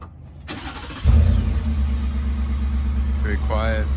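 A Ford F-150 pickup with stock exhaust cranks and starts, then settles into a low, steady idle with a quiet exhaust rumble. A person speaks briefly near the end.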